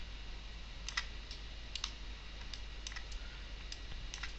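Computer keyboard keys tapped as a shortcut while cutting polygons in Cinema 4D modelling: a few light, scattered clicks in small clusters over a quiet, steady room hum.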